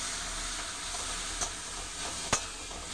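Chopped onion, chilli and crushed whole garam masala sizzle steadily in hot oil in a pan, a continuous hissing fry broken by a couple of soft scraping stirs.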